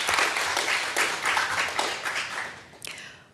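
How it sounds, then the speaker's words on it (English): Applause from an audience at an urban water circularity session, a steady wash of many hands clapping that fades out over a few seconds, fairly close and without speech. "Can we please applaud him?"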